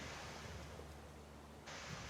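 Ocean surf in the survival video game Raft, a steady wash of waves rolling around the raft with a brighter hiss swelling near the end, no talking.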